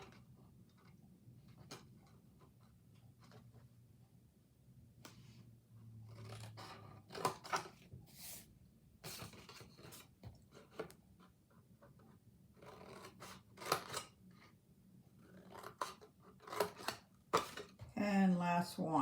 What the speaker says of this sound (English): We'll cut it again up to the score line. Cut a sliver.